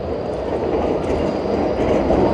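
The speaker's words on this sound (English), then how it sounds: "The tram's going by." A Melbourne tram rolls past at the corner of William Street and Collins Street at dusk, a steady, loud rumble of wheels on rail with faint clickety-clack that holds throughout, close by and with no voices.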